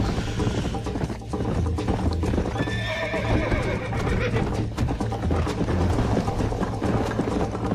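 A horse in the video game Red Dead Redemption on Xbox 360 gallops with steady, close clip-clop hoofbeats and lets out a loud whinny partway through, over a busy game-sound background.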